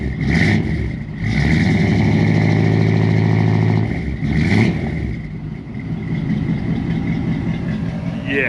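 A car engine with a custom single-pipe stainless steel exhaust revs loudly and close up, climbing in two strong bursts and then settling into a steady, throaty idle.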